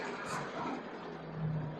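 Safari jeeps rolling up from behind on a jungle track at Tipeshwar wildlife sanctuary in Yavatmal, a steady low engine drone at moderate distance, with no talk.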